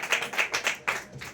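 A church congregation claps along together at close range, a burst of quick, uneven hand claps that continues for a moment.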